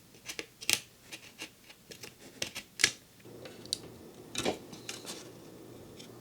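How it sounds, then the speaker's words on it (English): Scissors snip through the thin plastic fender pieces of a Tamiya Buggyra Fat Fox RC truck body, a run of quick, close, sharp clicks and cuts with short pauses. "Now we have to cut around and cut out these two fender pieces."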